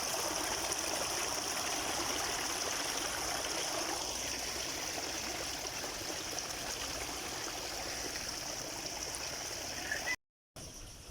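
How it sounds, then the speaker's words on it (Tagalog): Strong stream water flowing near a rice field, a steady close gurgling rush that runs continuously at moderate level, cut by a brief dropout near the end. "Malakas yung agos ng tubig eh"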